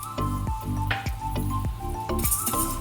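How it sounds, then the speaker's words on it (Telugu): Pan sizzling while frying an ingredient for a sugar-free, jaggery-free dry-fruit laddoo, with steady hissing broken by rhythmic scraping stirs and clinks roughly every half second, close and clear. "ఫ్రై చేసుకుందామండి"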